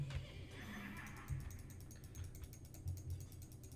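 Clicking, ratcheting mechanical noise from a mob grinder in the Minecraft Witchery mod, fast and repetitive amid game sounds, fairly quiet with faint background activity.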